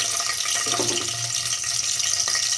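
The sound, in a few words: green chilies sizzling in hot oil in pan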